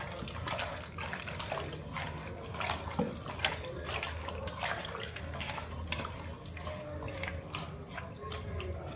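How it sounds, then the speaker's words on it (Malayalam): Water poured from two glasses into a cooking pot gives a steady, close splashing and trickling wash that runs on without pause, with no talking. "അപ്പോൾ ഞാനിവിടെ വെള്ളം കുറഞ്ഞാലോന്ന് പറഞ്ഞ് 2 ഗ്ലാസ് ഒഴിച്ച് വെക്കുന്നത്."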